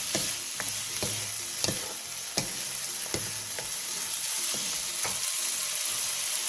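Food stir-fries in a pan over medium-low heat, giving a steady bright sizzle punctuated by several distinct spatula scrapes and knocks at uneven intervals, close up.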